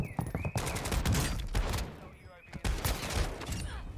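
Rapid shotgun blasts in Warzone fired at a quick, SMG-like rate with a thermal scope, bursts repeating through the clip under a speaking voice.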